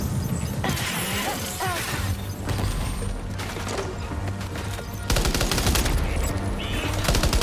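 Dense, rapid gunfire from Death Stranding's battle against Higgs with Fragile, with sustained bursts that grow louder and heavier partway through, set over a steady droning game soundtrack.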